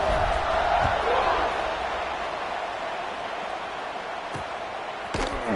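A football stadium crowd at kickoff roars steadily as a broad, loud wash of noise that eases slightly over several seconds, with a few sharp thumps and a rising cheer near the end.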